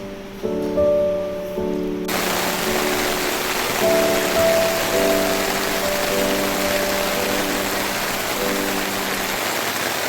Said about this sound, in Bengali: এত জোরে বৃষ্টিটা নেমেছে